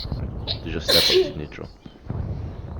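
One sharp, loud sneeze bursts out in the middle of a man's ongoing speech at a tabletop game session, with talk resuming right after.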